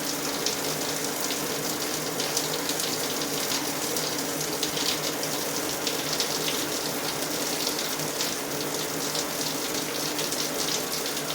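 Dream Spa LED shower head running a full, non-aerated spray, a dense, steady rush of water splashing continuously at close range, with no pauses or voices.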